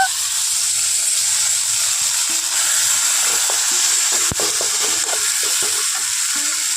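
Ground spice paste for a jackfruit seed curry frying in a hot pan, a loud, continuous sizzle and hiss with faint stirring scrapes and small taps, no voices.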